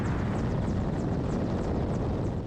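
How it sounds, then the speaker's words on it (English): Ukrainian military helicopters fly on an assault mission near Bakhmut, giving a continuous, loud rotor and engine roar with rapid blade chop and wind buffeting throughout. "A pair of Ukrainian helicopters on an assault against Russian forces close to Bakhmut."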